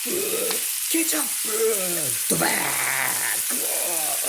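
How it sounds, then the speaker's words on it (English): Spaghetti stir-frying with ketchup in a pan, a steady sizzle running throughout, with a voice making varied sounds over it and a few stirring noises, close and moderately loud. "stir fry until the pasta become pretty red"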